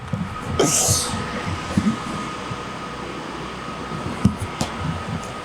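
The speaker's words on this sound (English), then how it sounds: "it's a fucking train going past." A train rumbles past close by, with clattering wheel thumps and a brief high squeal near the start, then sharper clanks later.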